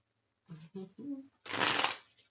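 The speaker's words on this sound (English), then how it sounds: "If I could shuffle, it would really be helpful." Tarot cards riffled together in a quick, papery burst after a few short spoken sounds, close and fairly loud.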